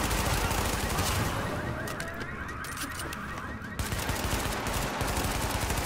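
Rapid weapon fire in The Division video game, a dense stream of loud shots running throughout with a short lull near the middle.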